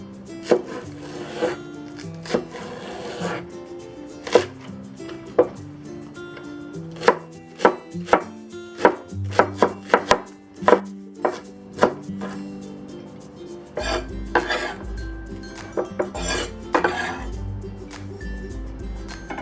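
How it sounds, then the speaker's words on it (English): A knife minces green onion on a wooden cutting board for soy braised chicken wings, with rapid sharp chops in uneven bursts that grow denser toward the end, close and clear with no talking. "And now we'll mince the green onion."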